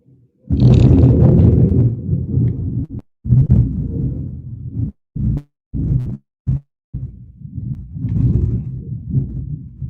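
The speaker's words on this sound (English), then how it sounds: "Y'all can hear that thunder?" Thunder rumbles outside in deep, heavy bursts that swell and cut off abruptly in choppy stretches, loud and booming with no voices during the rumbling.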